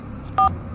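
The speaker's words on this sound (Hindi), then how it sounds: "पंडित को फोन लगाता हूँ" A short electronic telephone dialing tone sounds once, a brief clear beep lasting about a tenth of a second over a faint low background hum.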